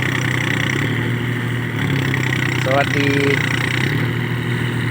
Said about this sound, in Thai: รถไถติดลมครับผม